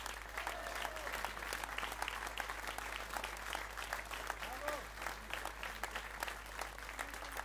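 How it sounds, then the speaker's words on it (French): A large crowd at a political rally in Orange applauds continuously, dense steady clapping with scattered cheers filling the whole stretch under a constant low hum. "Je vous demande d'applaudir Emmanuel Taffarelli"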